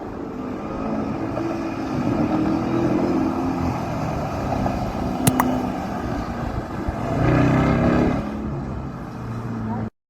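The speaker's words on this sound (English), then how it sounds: "So pretty unmistakable once you hear the supercharger whine" A Dodge Durango Hellcat drives by, its supercharged engine giving a steady rumble with a rising whine that swells as it passes close, while a person talks over it.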